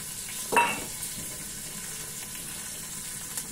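Nigella seeds and green chilies hit hot oil for mustard hilsa with bottle-gourd shoots, giving a brief burst of spitting sizzle that quickly settles into a soft, steady frying hiss.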